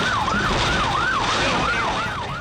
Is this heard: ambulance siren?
yes